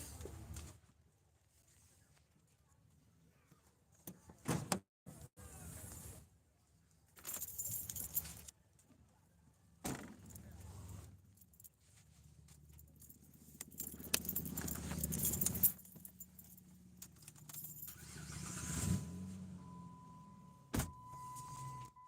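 Keys jangle in scattered bursts outdoors near a car, with power windows whirring and occasional vehicle sounds between quieter stretches.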